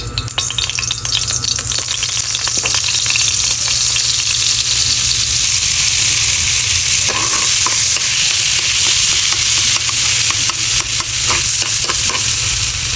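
Pork caldereta rib pieces fry in Star margarine and a little oil, giving a loud, steady sizzle with scattered stirring clatter throughout.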